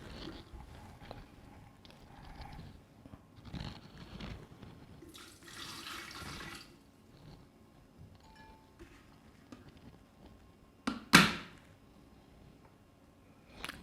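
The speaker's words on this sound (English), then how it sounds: "So let's add water to test it." Water runs and splashes from a tap as a Philips 1.7-litre 2400-watt electric kettle is filled, with soft handling knocks and one sharp clatter near the end.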